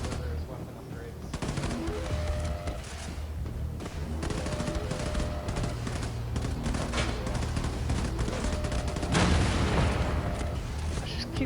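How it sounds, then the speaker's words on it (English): Dense gunfire from the video game Wolfenstein II: The New Colossus, repeated shots hammering steadily through the whole stretch with in-game clutter and booms, while a person talks over it. "I just keep shooting this guy in the head."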